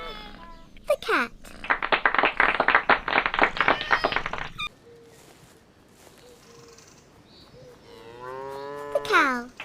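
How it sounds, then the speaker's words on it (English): A cow moos loudly and drawn-out near the end, after a stretch of rapid clapping and other animal noises at the start. "The cow."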